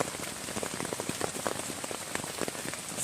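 Steady rain patters on a tent on the Appalachian Trail, a dense close drumming of drops with frequent sharper taps, continuous and even throughout, with no voices.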